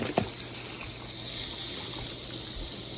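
Veal and pork broth is poured into a hot pan to deglaze it, making a moderate, continuous watery splash and sizzle that swells slightly midway, with no talking.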